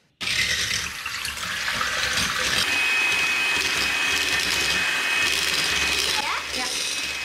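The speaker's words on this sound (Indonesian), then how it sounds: "Terus dikocok 7 telur," Seven eggs are whisked in a bowl, producing a steady, loud whirring buzz that starts abruptly and continues evenly for several seconds.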